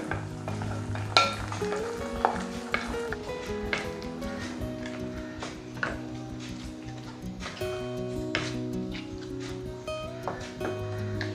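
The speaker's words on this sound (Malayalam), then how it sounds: "ഏകദേശം ഒരു പത്ത് മിനിറ്റോളം നമുക്ക് ലോ ടു മീഡിയം ഫ്ലെയിമിലിട്ടിട്ട് നന്നായി ഇളക്കി ഈ ഒരു തക്കാളി മിക്സിൻ്റെ വെള്ളത്തിൻ്റെ അംശം കംപ്ലീറ്റ് ആയിട്ട് വറ്റിച്ചെടുക്കണം" Tomato pickle mixture frying in a pan over low to medium flame while a spoon stirs it, giving steady sizzling with repeated scraping clicks and knocks against the pan throughout.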